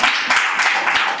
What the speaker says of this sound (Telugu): ఇప్పుడు చప్పట్లు కొట్టి ప్రభు నామాన్ని కనపరచాడు